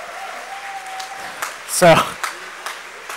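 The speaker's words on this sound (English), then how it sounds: "You can hear the cheering in the background." A crowd cheering and applauding after a tournament final at the WTC 2015 between Australia Wombat and Finland Blue, heard faintly in the background, with a louder burst of excitement in the middle and a voice speaking over it.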